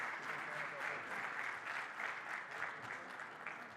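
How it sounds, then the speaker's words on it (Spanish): Applause from the audience at a panel discussion on AI law and regulation at a conference, a steady round of clapping lasting throughout, moderately distant, with a voice faintly audible beneath it. "Claudia, un aplauso ahí"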